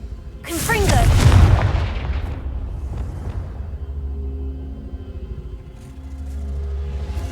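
Confringo fire spell explosion in Hogwarts Legacy, a loud close boom with a bright crackling burst around the first second, rolling into a long low rumble that fades and swells again.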